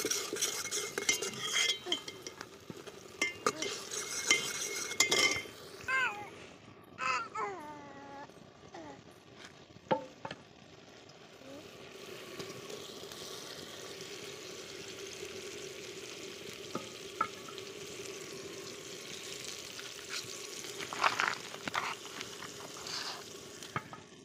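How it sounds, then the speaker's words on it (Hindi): Green chillies go into a cooked meat masala in a pot, with repeated metal spoon scrapes and clinks against the pot over a steady frying sizzle, close and busy at first, then a calmer continuous sizzle with occasional stirring. "मसाला पक चुका है अब मिर्च डालेंगे"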